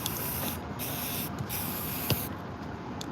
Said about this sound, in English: So I'm just gonna spray paint a little bit.